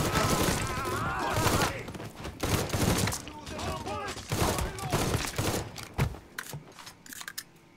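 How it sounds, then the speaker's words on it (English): Dense bursts of gunfire in the Mafia 3 video game, rapid overlapping shots and thuds crowding the whole stretch, loud and close, thinning toward a few scattered cracks at the end. "Who's shooting at me?"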